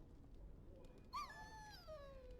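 A dog in the video game Dragon Age: Origins lets out a brief high whimper that slides downward, heard once near the middle of a quiet game soundscape.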